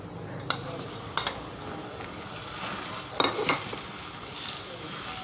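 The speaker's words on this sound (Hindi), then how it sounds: "क्योंकि मेरी सूजी भुनी हुई नहीं थी इसलिए मैंने इसको ऑयल में डाला है।" Semolina roasting in oil in a pan with cardamom gives a faint, steady low sizzle, broken by a few light scraping stirs and clinks of a spoon against the pan.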